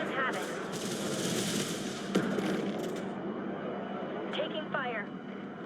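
Ship weapons firing in the space strategy game Homeworld 3, a dense, continuous barrage of rapid shots and blasts with one sharper crack midway, while voices talk over the battle.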